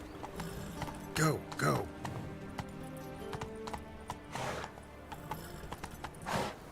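Horse hooves clip-clop in quick bursts in The Witcher 3, with a whinny-like cry, layered over game sounds and a voice urging the horse on.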